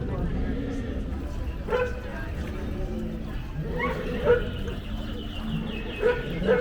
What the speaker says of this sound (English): There's that dog.